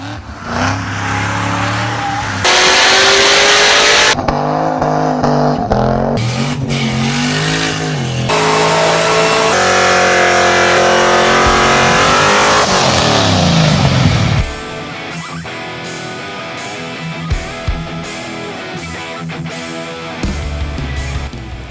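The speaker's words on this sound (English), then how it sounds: "we're going to have Alex dyno the C5 Z06 before we get into the modifications" A C5 Corvette Z06 engine revving on a dyno, loud and close, climbing through sustained high-rpm pulls with gear-like steps, then dropping to a rough, lumpy idle.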